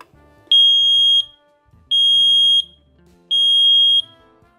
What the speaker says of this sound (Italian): Questo è l'allarme iniziale